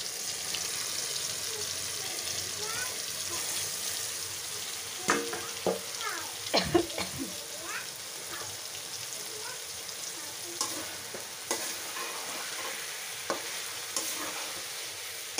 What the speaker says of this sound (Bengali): এখন জাস্ট একটু সবগুলো মানে নেড়ে চেড়ে দিচ্ছি যেন সবগুলোতে মশলা লেগে যায়